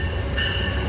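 Amtrak train #98 rolls northbound through Ashland, Virginia with locomotive 110 leading, a loud, close, continuous rumble of wheels and cars with a faint squealing tone.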